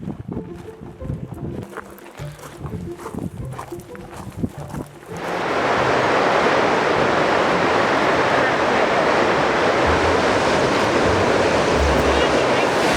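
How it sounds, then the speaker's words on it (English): A violent waterfall roars at the bottom of the Valley of Ten Thousand Smokes in Alaska, a dense broadband rush that starts abruptly partway through and stays loud after some earlier wind and movement noise. "it's one of the most violent waterfalls I've ever seen. It's roaring."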